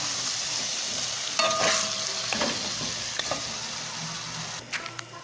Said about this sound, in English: the ground beef here, cooking up